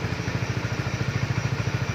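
A Honda CBR 150 motorcycle engine idles steadily, with a regular low pulsing thump and faint mechanical clatter throughout, heard close and without talk.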